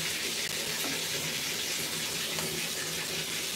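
Running water rinses oil out during a car wash session, a steady broadband rush of spray with no pauses, close and fairly loud throughout.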